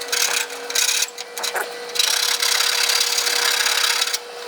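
Hand sanding with a small wedge of 400 grit sandpaper, smoothing a gouge down to a radius: close, dry scratchy rubbing strokes in short bursts, then a steadier stretch of scrubbing.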